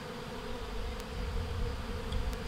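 Bees buzz outdoors close by, a steady dense drone that swells slightly, with one or two faint clicks and no voices.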